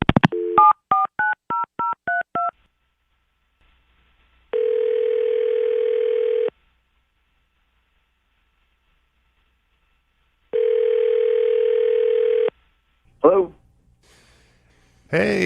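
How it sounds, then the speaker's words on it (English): Telephone number being dialed in quick DTMF beeps, followed by two long ringback tones separated by silence, then a brief voice as the call connects. "Let's try to call him up."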